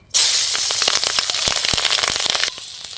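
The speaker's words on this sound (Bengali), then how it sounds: "ওই মাছ ভাজার তেলে দিয়ে দিচ্ছি কালো জিরা আর কাঁচা লঙ্কা।" Black cumin seeds and green chilies hit hot fish-frying oil during a Bengali pomfret curry, bursting into a loud, dense crackle and spatter that persists throughout, then drops to a softer sizzle near the end.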